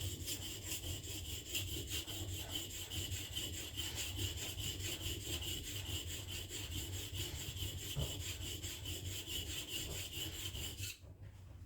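A blade being sharpened by hand, a steady rhythmic scraping and rubbing stroke after stroke, close and even in level throughout, with no talking until a brief shift near the end.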